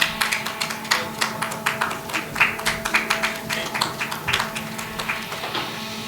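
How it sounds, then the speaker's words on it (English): Audience applause at a Golden Aim conference and awards ceremony for women leaders and EHS professionals, a steady patter of many hands clapping in a large room, moderately loud and sustained, with no voices over it. "Let's applaud. Continue applauding,"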